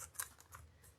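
Hand cutters snip through wreath-making material for a Valentine's Day wreath, giving a couple of quick, crisp cuts close by in a quiet room.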